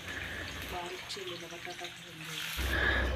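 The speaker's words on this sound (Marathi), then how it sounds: "कढईमध्ये दोन चमचे तेल घालून बारीक चिरलेला बटाटा घालून घेऊया" Finely chopped potato sizzling in hot oil in a kadhai, a loud hiss at the start and again at the end, with someone talking in the middle.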